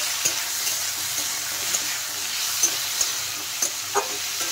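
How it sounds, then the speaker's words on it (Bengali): Spices and tomatoes fry in a pan for paneer curry, a constant close sizzle with soft intermittent scrapes and taps of a spoon stirring. "নেড়ে চেড়ে কিন্তু মশলা ভালো করে ভেজে নিতে হবে।"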